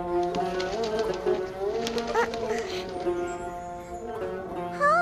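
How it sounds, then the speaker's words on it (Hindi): Pigeon cooing close by, soft repeated throaty coos under a voice speaking over them, with a brief brighter call near the end. "हाँ, कितना खूबसूरत कबूतर है।"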